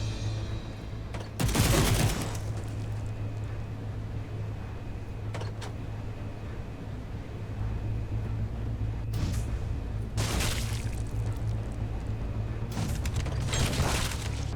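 Weapon gunfire from the shooter video game God's Trigger, several loud bursts of rapid shots and booms separated by quieter stretches of low game ambience, with no talking.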